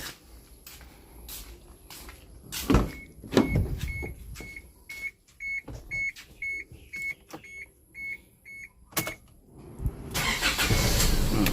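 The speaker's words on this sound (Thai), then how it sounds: "เรามาสตาร์ทเครื่องยนต์ดูนะครับติดง่ายไหม" A 2005 Isuzu D-Max 3.0 pickup's engine starts easily after a series of clicks and dashboard chimes, then settles into a steady, close idle.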